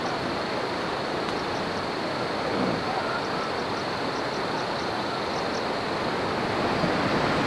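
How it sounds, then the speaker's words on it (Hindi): A river flowing close by in a green Himalayan valley of Himachal, near an apple orchard, gives a steady, unbroken broadband rush that stays loud and even throughout, with no voices over it. "नदी की आवाज़ भी आ रही होगी क्योंकि हम इस वक्त नदी के पास हैं"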